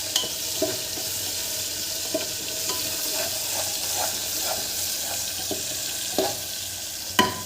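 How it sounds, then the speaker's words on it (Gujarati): Tomatoes stir and sauté in hot oil for a cabbage and potato dish, producing a continuous frying sizzle broken by scattered clicks and scrapes of a spoon against the pan, with no voices. "એ આપણે હલાવી નાખવાનું છે ટમેટા સાતડી લેવાના છે ગરમ તેલમાં"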